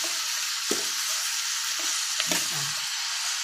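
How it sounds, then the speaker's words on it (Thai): Pork stir-fries in a hot pan with mixed vegetables, ginger and herbs. Dense continuous sizzling is broken by a few soft scraping stirs of the spatula, close up and with no talking. "นี่ค่ะผัดให้คั่วกันก่อนนะคะให้เข้ากันร้อนนะคะ"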